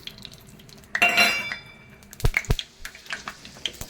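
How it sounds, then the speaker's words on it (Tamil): Fenugreek seeds go into hot oil in a clay pot, giving a short crackle and sizzle burst followed by a few sharp knocks of utensils on the pot, fairly close and with no talking. "ஒரு மண் சட்டி வச்சுருக்கேன் கொஞ்சமாக எண்ணெய் போட்டு எண்ணெய் காயிட்டோம் வெந்தயம் போட்டுக்கலாம்"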